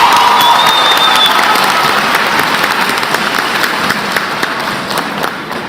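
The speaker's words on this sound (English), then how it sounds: "Please give Molly another round of applause." A graduation-ceremony audience for Pontiac High School claps and cheers in a dense, sustained burst, loud from the start and slowly tapering, with scattered whoops over the steady clapping.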